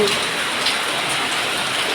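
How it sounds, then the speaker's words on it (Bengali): Steady rain falling outdoors, a dense close patter on surfaces at an even loudness throughout. "ওরে বাবা বৃষ্টিটা দেখো শুরু"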